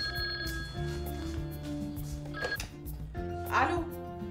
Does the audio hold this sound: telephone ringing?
yes